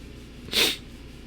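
A single short, sharp sniff through the nose, close to the microphone, rising and fading in under half a second over quiet background.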